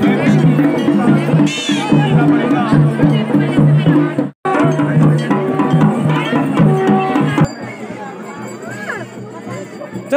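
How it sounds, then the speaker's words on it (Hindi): Dense crowd hubbub at a Chandika Maa jal yatra, a religious water procession in hot weather: loud, continuous overlapping voices and chatter with steady tonal music-like sounds beneath, briefly cutting out near the middle. "इतनी भीड़ है भाई"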